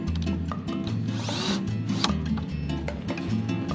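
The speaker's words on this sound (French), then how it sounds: "vous le vissez au-dessus avec les mêmes vis que vous avez utilisées pour les profils" Screws being driven to fasten a panel down onto profiles, a close run of short mechanical ratcheting and whirring bursts repeating steadily, with no talking.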